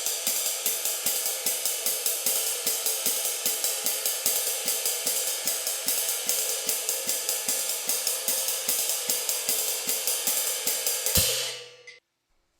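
Uptempo jazz ride cymbal played in fast quarter notes with throw-and-catch strokes, a dense steady shimmering wash with regular pulses for about eleven seconds before it cuts off abruptly into silence.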